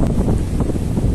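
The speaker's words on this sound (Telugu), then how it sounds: "చాలా బాగుంది బీచ్." Wind buffets the microphone on the beach at Gopalpur, Odisha, with steady, loud rushing noise and low surf rolling underneath, continuous throughout with no talking.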